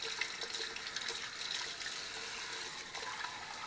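Water runs steadily from a tap to wet a shaving bowl, a continuous close hiss and trickle lasting a few seconds with no voices.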